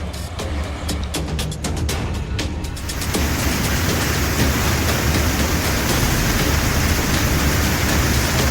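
Heavy rain pouring down in Uttar Pradesh during monsoon flooding, a dense, steady roar of falling water that starts slightly lighter and thickens into a continuous downpour after a few seconds, loud and close throughout.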